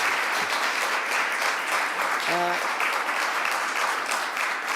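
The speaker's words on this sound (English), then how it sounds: "Let's give our Congressman another round of applause." An audience at a public event with the Governor applauds their Congressman with a sustained round of even clapping. It carries steadily for several seconds, and a brief voice cuts through near the middle.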